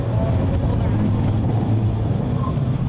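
Engine drone from inside a Peugeot 208 GT Line on a racing lap at Zwartkops Raceway, loud, steady and close, with a faint whine and wind roar throughout.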